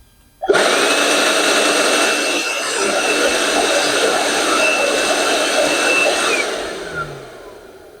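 A Bauer 20V cordless workshop blower switches on at its highest speed, setting 3, producing a loud, steady broadband whoosh with a whining tone that holds for several seconds and then winds down.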